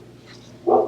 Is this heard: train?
no